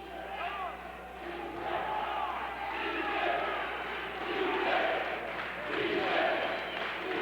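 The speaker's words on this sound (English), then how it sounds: "Crowd picking up the chant." Boxing crowd at an amateur bout taking up a chant, a rhythmic swell of many voices rising and falling in the arena, with a commentator talking over it.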